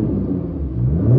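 A Nissan R35 GT-R engine free-revs in neutral, a loud close rumble that dips slightly and then climbs as the revs rise in a short burst.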